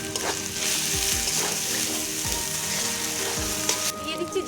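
Ginger-garlic paste, salt and turmeric fry with onions in a pan for a snail dish, a loud, close sizzle broken by repeated scrapes of a stirring utensil, with no talking.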